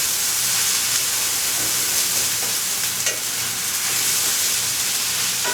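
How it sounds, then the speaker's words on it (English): Arame seaweed and vegetables sautéing in a pan for an arame salad with edamame, giving a steady, close sizzle and hiss with faint stirring scrapes throughout, with no talking. "right now I'm just going to pour the arame in. And saute this first without the liquid."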